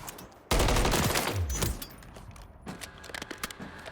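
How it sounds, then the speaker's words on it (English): A sudden loud burst of gunfire in the Call of Duty MW3 firing range as mannequins are shot, followed by fading echoes and scattered clicks and clatter, close and alone without talk. "shooting mannequins is not the end game"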